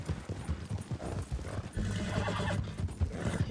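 A horse in the Fortnite video game neighs and its hooves clip-clop steadily, fairly faint, with little talk.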